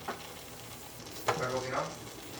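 Poblano peppers roast on a stove turned to high, giving a faint steady sizzle with a couple of brief scraping surges as they are moved, no talk over it.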